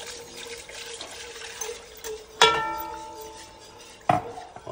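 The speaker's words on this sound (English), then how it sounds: "Just keep on stirring." Broccoli cheddar soup with room-temperature chicken stock is stirred in a pot, with soft liquid swishing and two sharp clinks of a utensil against the pot.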